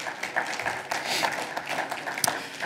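A church congregation applauds, with a moderate burst of many hands clapping that carries on steadily for a few seconds in a roomy indoor space.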